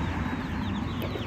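A tame black laying hen clucks close by in a farmyard, with a steady run of soft clucks over constant background noise and no talk.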